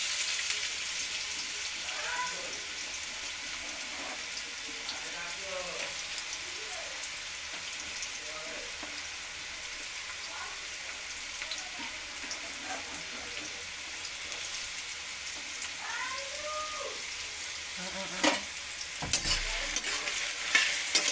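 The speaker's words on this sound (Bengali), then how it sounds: "প্রথমে তেলের মধ্যে আলুগুলো দিয়ে দিলাম।" Potatoes fry in hot oil for a chicken chow mein, giving a steady broadband sizzle throughout with scraping stir strokes from a utensil and faint voices in the background.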